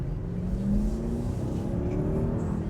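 A 2025 Mercedes GLS 580 with its V8 pulls hard while merging into traffic, a steady deep engine drone rising slightly in pitch beneath road and cabin noise, continuous and fairly close.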